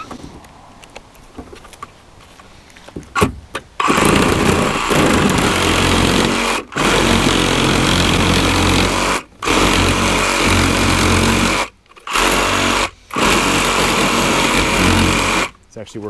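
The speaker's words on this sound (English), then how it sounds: "I'm just gonna use my Sawzall here to trim down these overlapping." A Sawzall reciprocating saw trims overlapping pieces on a floating duck island build, its loud buzzing motor running in long bursts with brief stops, after a quieter opening.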